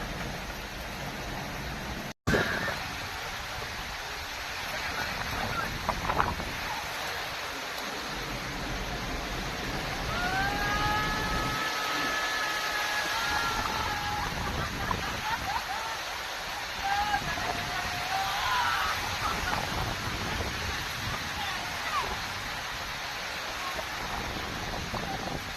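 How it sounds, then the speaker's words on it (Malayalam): Heavy rain pours over a misty tea plantation, a steady, dense hiss that fills the scene for a long stretch, with a few faint whistling tones partway through. "വീണ്ടും ശക്തമായ മഴ തുടങ്ങിക്കഴിഞ്ഞു"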